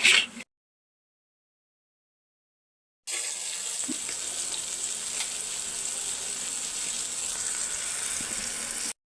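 Eggplant sautéing in a pan for a tilapia fish curry starts with a short burst of sound, falls silent for a few seconds, then gives a steady, loud hissing sizzle that runs on evenly.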